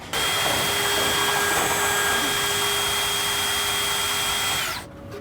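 A power drill whines steadily for nearly five seconds, boring a hole through a truck's cross member beneath the sheet-metal bed while a DumperDogg unit is installed, then winds down and stops.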